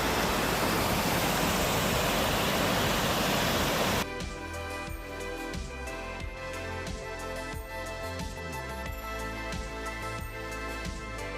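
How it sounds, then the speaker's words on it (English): Watson Falls, a tall waterfall in Oregon's Umpqua National Forest, pours with a dense, steady broadband roar for about four seconds before the sound cuts to a different, quieter musical bed. "These are called the Watson Falls."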